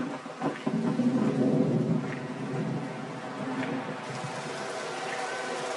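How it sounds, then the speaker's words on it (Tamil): Rain and thunder sweep over a cartoon football match: a low rumble of thunder swells at first, then steady rain hisses evenly on its own. "மழை வந்துருச்சு."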